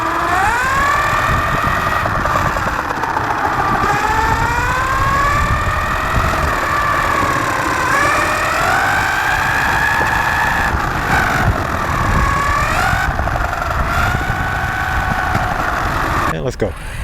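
Rlaarlo AM-12X high-performance RC buggy driving, its electric motor whining in rising and falling sweeps as it picks up speed, loud and close throughout.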